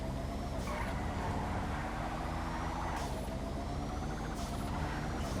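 A drivable hover car in a video game, modeled on the Sand King XL, giving off a steady sci-fi engine drone with a whooshing hiss that swells and recurs about every one and a half seconds.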